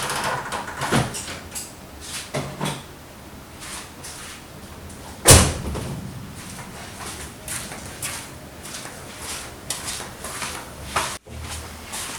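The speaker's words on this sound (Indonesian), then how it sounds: "Buka kap mesin dulu deh" The hood of a 1995 BMW E36 320i automatic is opened. One sharp metallic clunk of the latch stands out midway, set among quieter, scattered handling knocks and rustles.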